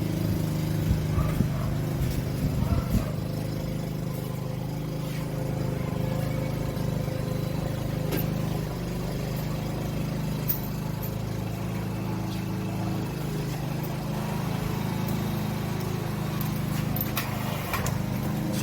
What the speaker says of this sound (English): my neighbor serenades us with the sound of his lawnmower